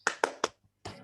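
A group in a classroom clapping game gives three sharp, close-spaced claps in quick rhythm, then a short pause before a further softer clap-like burst, with no talking.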